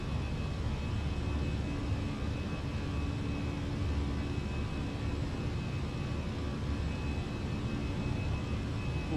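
An Airbus A319 airliner in a flight simulator accelerating down the runway on its takeoff roll in a slight crosswind, a steady loud engine roar and rumble with a faint whine, continuous and unchanging, with no voices.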